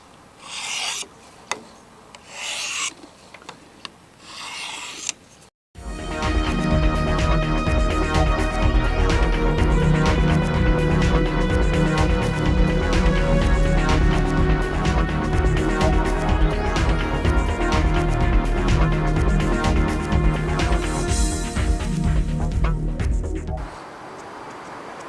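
Steady, loud rasping strokes as a knife blade is drawn along the finer rod of a Darex Work Sharp field sharpener, running continuously for about eighteen seconds after a few brief scrapes and a pause.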